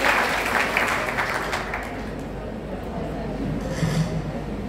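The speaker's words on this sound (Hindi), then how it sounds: "जोरदार तालियों के साथ इस बच्ची का स्वागत करें।" Applause from an audience welcoming a girl to the stage at a government girls' college annual prize-giving ceremony in Gohana, a dense, steady clatter of clapping throughout with a faint voice in the background.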